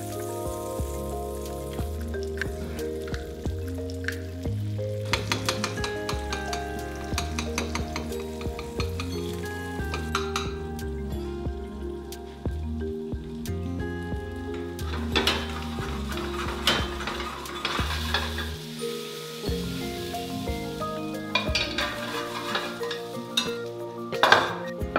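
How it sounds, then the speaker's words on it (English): An egg frying in a pan for a short rib breakfast hash, with a steady sizzle under clattering utensil and pan sounds and stirring, busy and close throughout, with music-like tonal layers underneath. "Then you're gonna quickly fry off an egg, or you can even poach it if you'd like"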